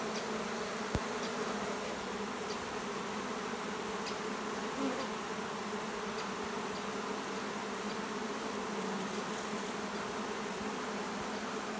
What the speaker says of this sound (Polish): Także rój, druga część roju przechwycona.